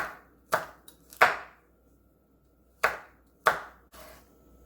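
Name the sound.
chopping a red chili pepper with a knife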